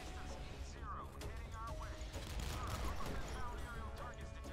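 Naval combat in the video game Modern Warships: dense blasts and rapid gunfire-like crashes build into a loud, continuous roar. An excited voice talks throughout over the din.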